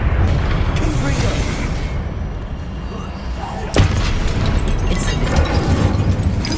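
A Confringo fire-blast spell explodes in Hogwarts Legacy, a sharp boom bursting out of dense, continuous game noise and combat effects, with a voice speaking over the din.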